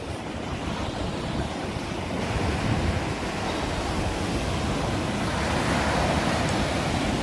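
Calm sea washes steadily against the shore on a December afternoon, a continuous broad hiss of gentle surf mixed with wind noise and no talk.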